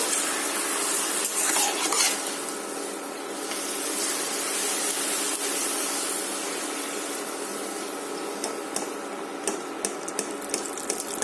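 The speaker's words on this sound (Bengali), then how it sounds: "এই পাঁপড়গুলোকে আগে ভেজে নেব।" Papad fries in hot oil, a dense bright sizzle and hiss that holds steady and loud throughout, with a few sharper crackles near the end and no talk.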